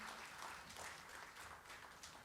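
Audience clapping at a panel discussion on resilient leadership as a distinguished speaker is invited to the stage, a fairly faint, steady spatter of many hands throughout.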